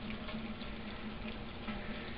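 Liquid from a home still run is poured directly into a charcoal filter, a soft continuous trickling and splashing close by, faint and steady with no talk.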